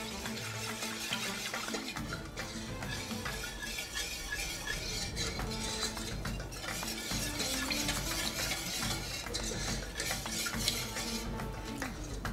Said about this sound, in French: Je mélange bien pour diluer la pâte de noisette et le maïzena.